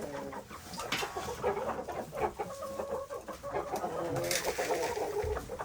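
Chickens and roosters cluck steadily around a farmyard, with several birds calling over one another and a busy, continuous flock chatter throughout.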